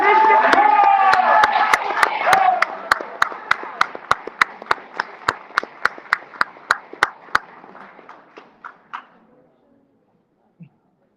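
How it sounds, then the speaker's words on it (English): An audience applauds a chess team captain at the Detroit City Chess Club awards ceremony at the Detroit Institute of Art. Dense clapping with some cheering voices at first thins to a few sharp, evenly spaced claps that die out. "give it a big round of applause for the captain, Isaiah Cobb"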